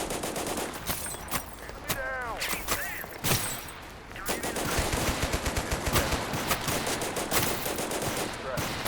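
Kar 98 rifle shots in the video game Total Conflict: Resistance, in the middle of a firefight. Sharp reports crack through continuous battle noise, with a dense run of rapid gunfire in the second half.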